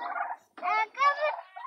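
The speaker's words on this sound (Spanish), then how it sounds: "acá mi papá va a echar los pavos mientras" Turkeys gobble close by on a farm, three rippling bursts separated by short pauses, loud and clear with no talking over them.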